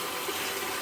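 Tap water runs steadily over shaving gear being soaked before a shave, a brief close, even hiss of moderately hot water with no talk.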